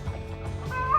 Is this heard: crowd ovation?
no